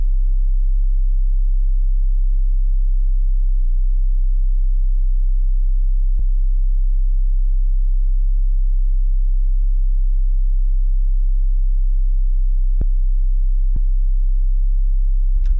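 A deep, pure sine-wave sub-bass note from a Serum 2 synthesizer hums steadily and loudly throughout, with a few faint clicks scattered across it.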